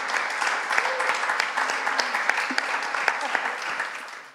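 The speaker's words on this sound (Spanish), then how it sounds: "un fuerte aplauso para Jordi, Tony y Quique" Sustained audience applause at a live talk event in Barcelona, a thick wash of many hands clapping with sharper claps popping through, fairly loud and continuous across the whole stretch.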